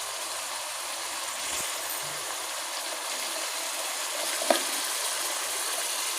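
Turmeric and spices fry in a pan for Lahori chana masala, giving a steady broadband sizzle that holds throughout, with a soft stir or clink near the end and no talking.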